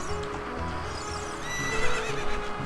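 Epona, the horse in Zelda: Ocarina of Time, lets out a drawn-out whinny over steady galloping hoofbeats. The game audio is loud and close and plays on without pause.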